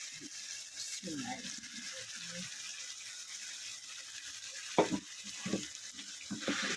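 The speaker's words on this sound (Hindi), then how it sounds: "अब हम टमाटर डालेंगे" Tomatoes go into a pan of spicy chicken frying over a steady hiss of sizzling oil, with a brief splash and stirring clatters while someone talks.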